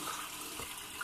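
Vegetables rinsed under a running kitchen tap make a brief, faint, steady hiss of flowing water.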